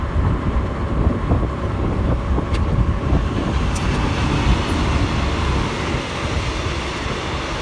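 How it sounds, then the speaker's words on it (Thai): A Bangkok-bound train rumbles past close by in Thailand, a steady heavy low roar with rattling and occasional high squeals, wind buffeting throughout. "นั่นก็เป็นรถไฟเข่ากรุงเทพ"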